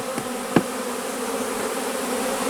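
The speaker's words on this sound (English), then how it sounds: "There's a bee sitting on top of the camera." Honey bees buzz steadily throughout while a package of bees is installed into a hive, a continuous close insect drone with a brief knock near the start.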